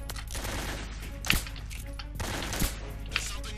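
Gunfire in the stealth video game Metal Gear Solid 3: Snake Eater, a few sharp shots and short bursts cracking over a constant, dense background of game ambience and battle noise, with no talk.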